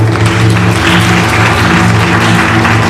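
Loud, dense applause from an audience fills the whole stretch, steady without pause, over a low constant hum.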